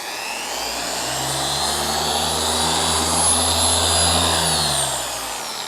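A paint polishing machine works the paint of a Porsche 911T at a high speed setting, making a loud, steady motor drone with a whining tone that swells slightly, then eases off toward the end.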